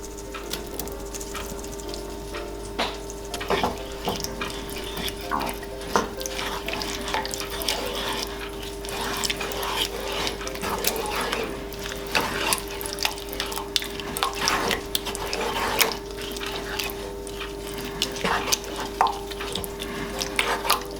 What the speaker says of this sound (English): I'm gonna go ahead and add in my drained ground beef from earlier.